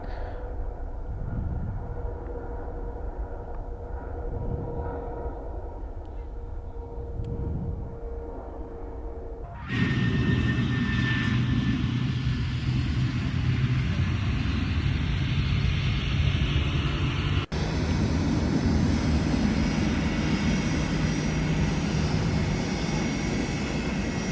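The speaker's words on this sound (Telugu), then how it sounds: "టూ ఫ్లైట్స్ ఒకేసారి" Two airplanes fly near RDU airport at sunset, a distant engine drone that jumps to a louder, closer roar partway through and then holds steady.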